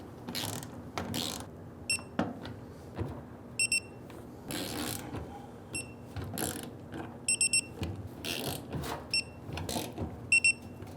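A ratchet or torque wrench tightens the fuel tank bolts on a 1994-2004 Ford Mustang, giving several short bursts of crisp, close mechanical clicking separated by quieter gaps.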